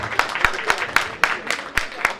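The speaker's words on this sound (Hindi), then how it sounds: "आप सभी की तालियां इनके बारे में बताएंगे" Applause breaks out among those gathered at a Jain temple event in Patna: a run of loud, evenly spaced claps that sound like a few people clapping close by, over a murmur of background voices.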